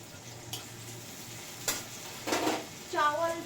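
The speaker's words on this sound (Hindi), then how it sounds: "तो मैं अच्छा से थोड़ा लाल करके भून ले रही हूँ प्याज को।" Onions browning in a pan give a quiet, steady sizzle broken by a few sharp stirring scrapes and clinks of a utensil, heard close in a home kitchen without any talk.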